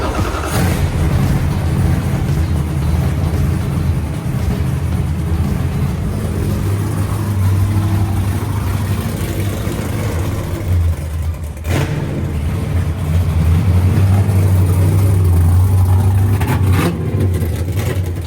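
A Formula D drift car's engine runs loud and close, idling rough and lumpy with repeated revs climbing and dropping, a brief cut near the middle, then rising again, with no voices.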